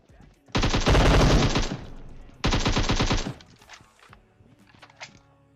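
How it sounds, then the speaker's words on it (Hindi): M762 assault rifle in the mobile game PUBG Mobile, two loud rapid-fire bursts of about a second each, separated by a short pause, followed by fainter scattered game sounds. "और ये M762 की आवाज इतनी तेज क्यों आती है?"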